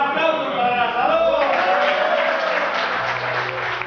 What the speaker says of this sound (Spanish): Un aplauso para Salud.